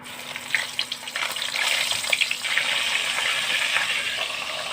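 Food frying in oil in a village kitchen while a curry of koi fish with potatoes and cauliflower is prepared, a close, steady crackling sizzle with a few sharper pops, no voices.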